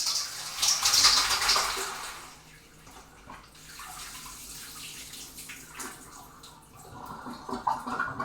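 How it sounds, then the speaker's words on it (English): Cooking liquid for shakshuka drains from a pot into a sink, starting with a loud splashing pour, then settling into softer trickling and gurgling, close by. "I'm gonna drain this real quick."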